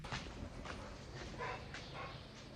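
A dog barks repeatedly in the distance on a cool early morning in Taghazout, Morocco, right after chasing a cat. The barks are faint, come in a loose, irregular rhythm and sit under steady background noise.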